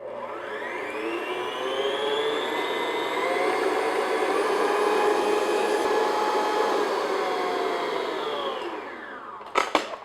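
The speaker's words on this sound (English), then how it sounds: "I'll continue to mix on high speed until like stiff peaks form." An electric mixer beats cream on high speed for a key lime pie, a steady close whirring drone with a rising whine that holds for several seconds, then stops with a few clicks and knocks.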